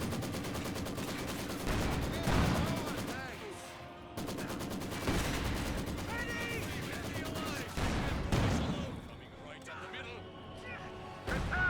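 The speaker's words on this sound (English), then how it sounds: "Maxim firing away, wipes out that squad there." A Maxim machine gun fires repeatedly in the World War II strategy game Company of Heroes 2, with bursts of gunfire and explosions under steady commentary.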